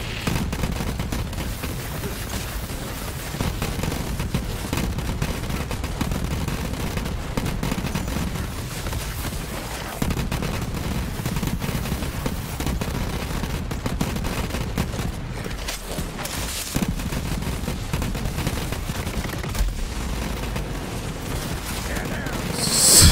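Flakker, a legendary shotgun in the Borderlands 3 video game, fires in a dense, continuous barrage of booming blasts and explosions throughout, loud and close, with voices underneath.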